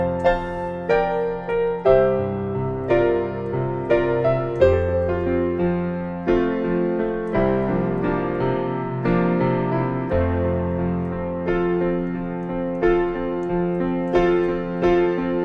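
Piano playing the intro of a song, flowing broken chords and melody with soft left-hand bass notes, gentle steady rhythm, close and clear with no voices.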